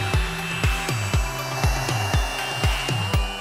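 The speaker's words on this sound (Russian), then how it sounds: "Я влюблена в этот пылесос." A small, light vacuum cleaner that can pick up spilled liquids runs steadily with a high whine, broken by regular rhythmic surges every fraction of a second, loud and close with no talking.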